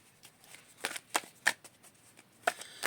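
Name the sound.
drawing tarot cards from the deck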